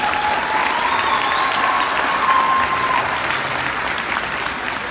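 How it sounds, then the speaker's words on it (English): A high school pep assembly crowd applauds Mr. Erickson at a state championship cross country celebration, loud, sustained clapping that fills the gym evenly, with a faint whistle-like tone threading through. "So give Mr. Erickson a round of applause"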